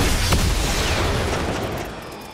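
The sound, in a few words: gunshots in a video game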